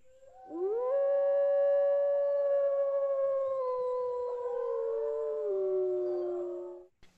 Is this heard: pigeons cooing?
no